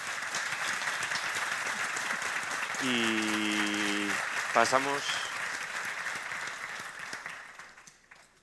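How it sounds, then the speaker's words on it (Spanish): A conference audience marking 40 years since Spain's EU accession treaty applauds in a steady, even wash of clapping. Someone speaks briefly partway through, and the applause fades away at the end. "Pido un aplauso para los 4."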